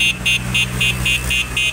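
An electric bicycle horn is being tested, giving six short, even electronic beeps in a steady rhythm, loud and close, over a low background hum.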